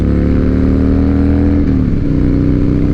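A 2007 Harley-Davidson Night Train motorcycle engine runs loud and close at high RPM, a steady throbbing roar that dips slightly in pitch partway through, no voices over it.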